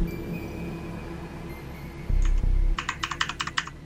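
Keys clatter on a computer keyboard hooked up to an Xbox Series X, first a few heavy thumps, then a quick run of sharp taps, all close and clear against a faint hum.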